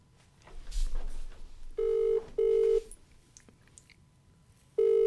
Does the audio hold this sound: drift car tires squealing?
no